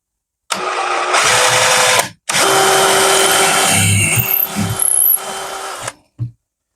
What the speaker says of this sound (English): I should be able to drill into the frame